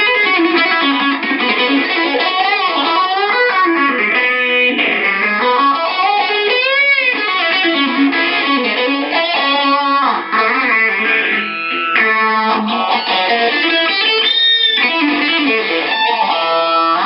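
Electric guitar run through a distortion effect in Guitar Rig plays a sustained, saturated riff for about seventeen seconds, loud and dense with bending notes and chords, no talking.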